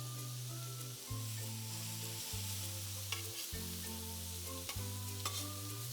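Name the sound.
garlic and vegetables stir-frying on a griddle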